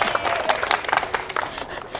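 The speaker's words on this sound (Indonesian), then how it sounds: "Tepuk tangan dong." Audience applause at an Indonesian talk show, a brief burst of scattered clapping from a modest crowd, moderately close, fading toward the end.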